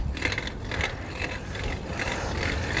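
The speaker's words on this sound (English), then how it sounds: "Second gear is always very noisy." Bicycle in second gear with a noisy drivetrain, giving a steady ratcheting, clicking mechanical rattle that pulses rhythmically throughout, close and continuous under faint outdoor traffic hum.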